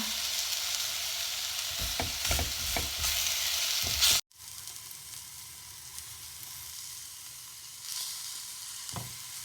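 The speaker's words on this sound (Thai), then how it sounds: "ใส่กุ้งลงไปนะคะ เพราะว่าเครื่องที่เราผัดหอมได้ที่แล้วเนาะ" Shrimp hit a pan of stir-fried aromatics for baked shrimp with glass noodles, giving a loud, dense sizzle that cuts off sharply, then settles into a steadier, softer frying hiss.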